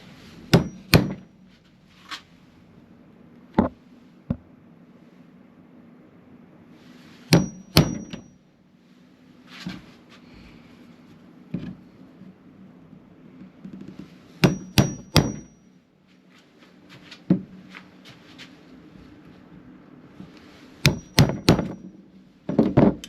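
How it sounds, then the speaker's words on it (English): A chisel struck with a hammer to cut out wood corners, sharp loud knocks arriving in short clusters of two or three with quiet pauses between, close by and with no talk. "let's get a chisel and I'll do it properly for you"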